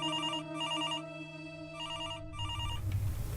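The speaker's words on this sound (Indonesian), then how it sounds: "Telepon bunyi." A telephone bell rings in repeated bursts, loud and close, with short pauses between rings and a low hum underneath.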